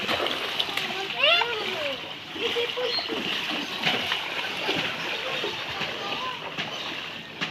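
Water splashes and sloshes continuously nearby at high tide, with a voice briefly audible over the churning surf.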